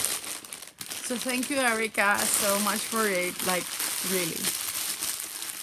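A plastic bag crinkles and rustles close by throughout, a continuous crackly texture running under someone speaking.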